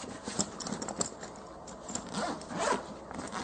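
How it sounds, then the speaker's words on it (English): A Velcro handle cover on a range bag is pulled open in a close, rough ripping tear with uneven crackly bursts over a few seconds, heard without talk. "it has this cover to combine the handles with this Velcro. Opening that up exposes the main compartment of the bag."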